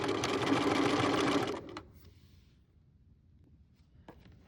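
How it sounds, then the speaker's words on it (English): Sewing machine running a seam for about a second and a half, a loud continuous whir of rapid stitching that stops abruptly, followed by faint handling clicks and near silence. "I'm going to go all the way down. When I get there, I'm going to back stitch."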